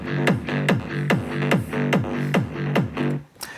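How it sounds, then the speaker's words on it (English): A raw synth loop layered in a big room EDM track in G, repeating punchy plucked hits roughly every two-fifths of a second over a dense, full-band mix. "It's like a raw synth loop."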